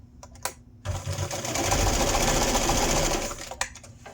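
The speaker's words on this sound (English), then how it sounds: "I'll just put this in my machine here and stitch it closed." A sewing machine stitches a spa headband closed: a short start, then a steady, loud mechanical whirr of rapid needle strokes that runs for several seconds before stopping, close by with no talk.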